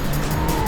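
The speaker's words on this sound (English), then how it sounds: "Okay, there's the tire squeal." Loud tire squeal from an Audi RS3 or Mercedes A45 AMG on a race track, a sustained high tonal screech held over steady engine roar for under a second.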